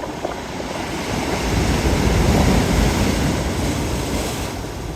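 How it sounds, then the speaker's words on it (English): Steady wash of surf on a stony shore at Beaulieu-sur-Mer, with a broad noisy swell building and easing, rocks rolling as the water recedes, wind noise throughout. "You can hear the rocks rolling when the water comes back."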